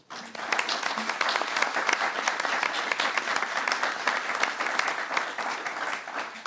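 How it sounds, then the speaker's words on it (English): Sustained applause from a crowd at a governor candidates' debate, steady clapping throughout with a brief quiet moment at the very start. "Let's give them a round of applause."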